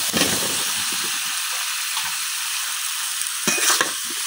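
Cut sponge gourd is stirred into sizzling spice masala in oil for a village-style puti fish curry. A loud, close frying hiss is broken by scraping stirs, with a brief burst near the end.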